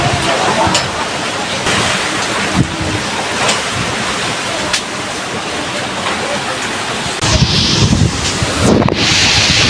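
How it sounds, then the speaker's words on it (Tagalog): Powerful Typhoon Uwan wind blasts steadily across the microphone, a loud rushing roar with gusts and rattling, growing harsher near the end. "Grabe, ang lakas po talaga ng hangin."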